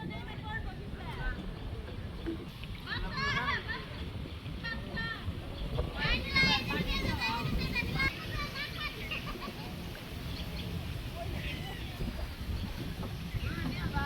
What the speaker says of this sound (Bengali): বাবা রে বাতাস রে